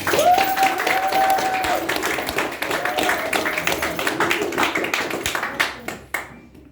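Wedding guests clap for the newly married couple, a dense burst of applause that carries on with a few cheers and then tapers off to quiet at the end.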